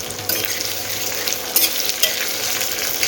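Onions tossed into hot oil with bay leaf, chillies, cardamom, cinnamon and other whole spices, giving a steady, bright sizzle close by with a few louder crackles and stirring scrapes.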